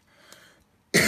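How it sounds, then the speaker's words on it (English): A single sharp cough bursts out loud and close at the end, after a stretch of quiet while buff-coloured paint is applied to a craft tag. "Excuse me, sorry for coughing."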